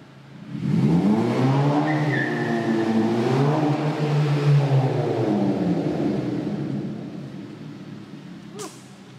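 A 2011 Honda Civic Si with a Skunk2 exhaust revs loudly and close by, its engine note rising and falling in sustained pulls for several seconds before easing off; no one speaks over it.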